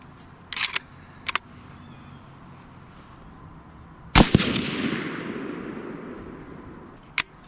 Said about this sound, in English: So we're gonna go ahead and shoot this next one and see how close it'll get us.